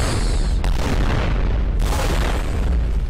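A planted weapon detonates in a video game, a loud, dense blast that fills the whole clip with broadband roar and two sharp renewed bursts, no talk over it.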